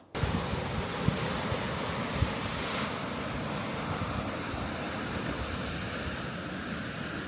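Ocean surf surges continuously into rock cliffs at Devil's Churn on the Oregon coast, a dense roar of churning water mixed with wind buffeting the microphone, with no talk.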